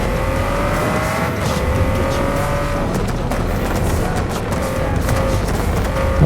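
Nissan GT-R R35 in the Forza Horizon 5 racing game, a steady loud engine drone holding high revs throughout, with tire squeal and a shifting pitch as the car drives on.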